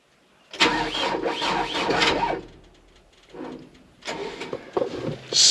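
An engine being cranked over on a farm in hay season, with a loud whirring crank that surges, dips, then catches again in repeated close attempts.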